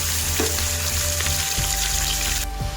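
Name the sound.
onions and chicken frying in pan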